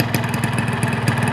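A two-stroke motorcycle engine idles close by, a steady loud putter with a fast regular pulse and no voices over it.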